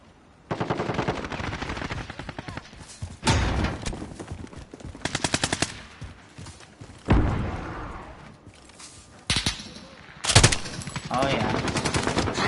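Automatic gunfire in Call of Duty: Modern Warfare, repeated rapid bursts of machine-gun fire with a few heavy single shots and booms, loud and close, spread across the whole stretch with brief gaps between volleys.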